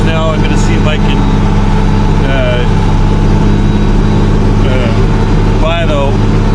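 A tractor pulling a plow through a hay field works harder as it climbs a ridge, giving a steady, loud low engine drone throughout, with faint voice-like sounds drifting over it.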